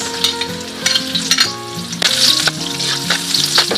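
Garlic and onion fry in about four tablespoons of hot oil in a pan, a loud, dense sizzle with crackling pops and occasional stirring clatter, up close and without talk.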